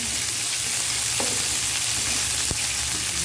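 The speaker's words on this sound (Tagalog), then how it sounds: "Lagyan na natin ang sibuyas. Halo-haloin lang natin." Onion frying in hot oil gives a dense, steady sizzle at close range, with a couple of sharp scrapes as it is stirred, and no voices.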